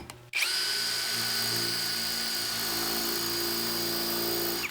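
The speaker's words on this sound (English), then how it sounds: "I've got a paver stone, and I've only got this on the drill setting." A Worx 20V hammer drill set to plain drill mode bores into a paver stone, starting abruptly after a brief pause and then holding a loud, steady, close-up whine with a gritty grinding edge for several seconds.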